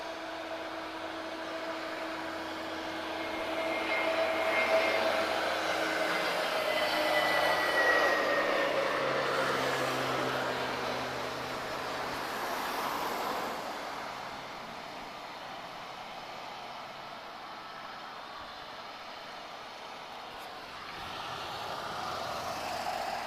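Airliners taking off at Lisbon Airport: a distant jet roar swells and fades over several seconds, with a rising whine early on, then a softer rumble lingering in the background.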